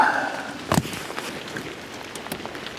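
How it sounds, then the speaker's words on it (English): Rain falls steadily outdoors during a 2012 VW Touareg battery replacement, a soft continuous patter with one brief louder knock partway through. "And now the rain's picking up."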